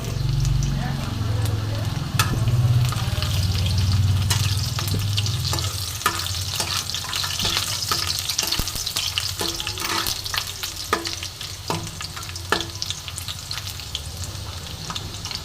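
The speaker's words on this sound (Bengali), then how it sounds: "এবার রসুনটা একটু ভালো মতন ভেজে নেব" Sliced garlic sizzles steadily in oil as a spatula taps and scrapes the pan in irregular knocks, with a voice talking over it early on.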